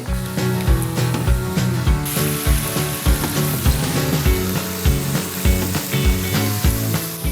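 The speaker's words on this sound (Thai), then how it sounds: "ผมผัด กุ้งแล้วก็ไก่ของเราเริ่มที่จะสุกแล้วนะครับ" Loud stir-frying of shrimp and chicken in a wok, with steady sizzling and a regular scraping, tossing rhythm repeating over and over.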